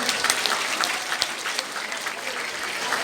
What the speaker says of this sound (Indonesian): Berikan tepuk tangan yang meriah semuanya.